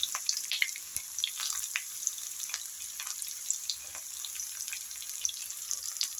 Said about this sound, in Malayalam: കറിവേപ്പില ഉള്ളി മൂത്ത് വരുമ്പോഴത്തേക്കും ഇത് നമുക്ക് ഇതിലേക്ക് വയ്ക്കും.